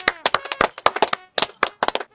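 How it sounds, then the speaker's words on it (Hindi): Several people clap for a tailor in an irregular burst of sharp hand claps, close and loud, with a brief pause midway before the clapping resumes. "अरे भाई इनके लिए ताली बजाओ। अरे भाई तुम भी बजाओ।"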